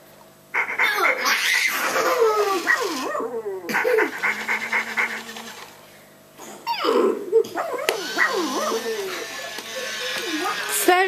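An Animagic Benji toy dog gives growls, yips and whimpering playful noises in bursts, sounding close and loud, broken by short pauses.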